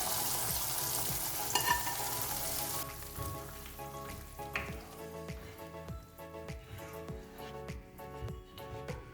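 Nuts and raisins fried in ghee tipped into a pot of rava payasam: a loud sizzling fry that drops off partway into softer crackling and steady stirring scrapes, with no talk.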